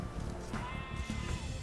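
Sheep bleat in Age of Empires 2: Definitive Edition on a nomad map, a few short wavering bleats over a busy game soundscape of ambient rumble and unit noise.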